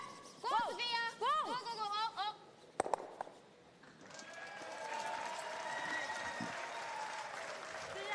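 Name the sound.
curling crowd applauding a shot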